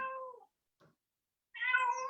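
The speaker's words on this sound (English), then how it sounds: "Is that a cat or a baby in the back? It's my cat." A cat meows in the background of a video call, two separate calls with a gap between them and a faint short sound in the middle, heard alone with no talk over it.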